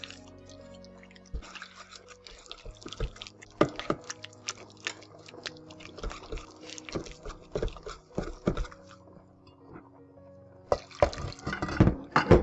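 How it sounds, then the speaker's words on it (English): A whisk stirs peanut paste with warm water in a bowl for Ghanaian groundnut soup: irregular wet clicks, taps and squelches close by, quickening into a busier patter near the end, with no talk. "Add a little water here, and then we will start mixing this up."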